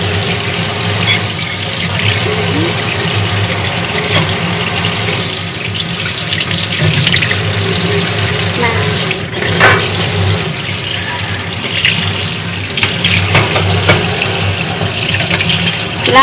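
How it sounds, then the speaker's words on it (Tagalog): Tap water runs steadily into a sink while fresh crabs are washed for cooking, a close, continuous rushing stream with faint handling noises mixed in. "Kailangan talaga ito hugasan"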